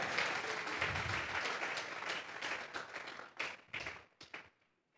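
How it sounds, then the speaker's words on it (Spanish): Church congregation clapping together in a dense burst of applause that thins into a few scattered, separate claps before stopping. "Vamos a regalarle ofrenda de palmas al Dios de la gloria."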